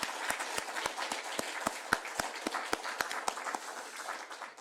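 A church congregation claps in a steady, even rhythm of sharp individual hand claps, fairly quiet and slightly distant, with no talking over it.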